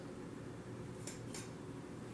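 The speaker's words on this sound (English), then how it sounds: "I'm going to slice this off real easy" A kitchen knife cuts the top off a bell pepper, making two quick, crisp slicing strokes a fraction of a second apart over a quiet room hum.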